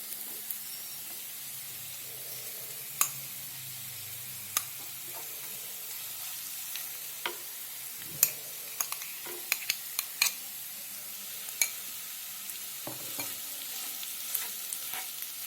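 Mashed potato with turmeric and spices fries quietly in a pan, a soft continuous sizzle broken by scattered clicks and taps of a spoon stirring, with no voices.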